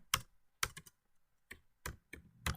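Code being typed on a computer keyboard: several quick clusters of sharp, close key clacks with short pauses between bursts, no talking.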